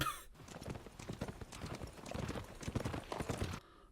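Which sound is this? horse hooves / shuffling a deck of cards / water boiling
horse hooves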